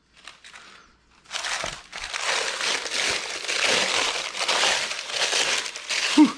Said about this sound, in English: we're gonna cut it open with a regular knife